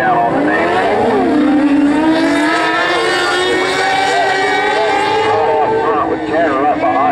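A class heat race cars, including the number 86 car, roar past with steady high-pitched engine drone and rising and falling pitch, loud and continuous, while an announcer talks over the engines.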